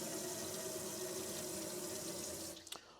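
Water runs steadily from the hot water supply of a Globecar Summit 600 campervan, a quiet, even faucet hiss that cuts off near the end with a few drips and clunks.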